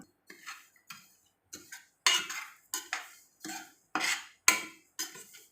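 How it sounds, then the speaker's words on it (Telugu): Semolina roasting in ghee while a spoon stirs it in a pan, a run of distinct scraping strokes and metallic clinks in a steady rhythm, close and clear. "ఇలా వేయించుకోవాలి ఫస్ట్ నూకని నెయ్యి వేసి ఒక స్పూన్ వేయ నెయ్యి వేసేసి వేయించుకోవాలి బాగా"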